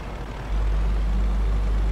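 Hino truck engine in Euro Truck Simulator 2 straining up a steep climb, a loud, steady low-frequency drone that swells in after a brief quieter moment and holds heavy and continuous.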